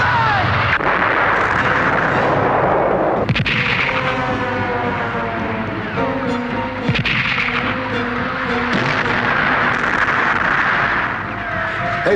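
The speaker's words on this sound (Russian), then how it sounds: "Генрих, ориентир 24, пушка" Heavy cannon and artillery fire in a 1985 Soviet war film's battle scene, loud booming blasts over a dense rumbling din of combat, with a few sharp detonations standing out.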